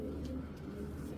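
A strong racing pigeon coos softly and steadily over the short span, with a low continuous hum underneath and no talking.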